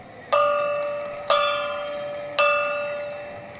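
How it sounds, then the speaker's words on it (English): A gong struck three times at a baseball game after a Dodgers home run against the Padres, each loud metallic hit ringing out with a long shimmering decay before the next, about a second apart. "Bang the gong again for the 3rd time this inning."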